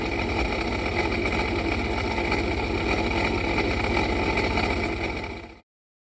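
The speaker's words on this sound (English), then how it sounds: "Started the motor, turned on the water. We'll let it run for a minute." A 2007 Sea-Doo 4-TEC personal watercraft engine idles steadily out of the water with a constant low rumble and whine, then abruptly cuts off near the end.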